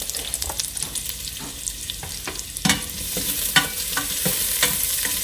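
Menudo frying in a pan as it is stirred, a steady sizzle broken by scraping and clacking strokes of the spoon throughout, close and fairly loud.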